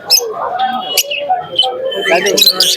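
Birds and pigeons at the Shantipur pigeon market, with short chirps and soft coos scattered close by, mixed in with people talking nearby.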